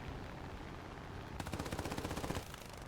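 Aircraft machine gun in War Thunder rattles out a single steady burst of about a second, evenly spaced rapid shots fairly close, with engine drone underneath before and after.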